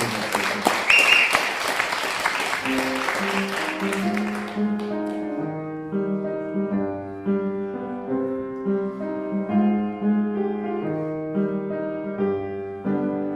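An audience applauds a pianist on a broadcast music show, a burst of clapping for about four seconds that gives way to clear, gentle piano notes played alone.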